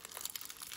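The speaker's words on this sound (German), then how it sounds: "das funktioniert ja hier schon super, wie ich hier die Folie abmache" Protective film being peeled off a diamond painting canvas, a short, faint crinkle and tearing rustle close to the microphone, with no voice.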